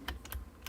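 A loud PC keyboard clacks in a few quick, close keystrokes spread over under a second, crisp and distinct against a quiet room.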